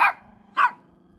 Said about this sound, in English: You're a cute bunch of attack dogs, that's for sure.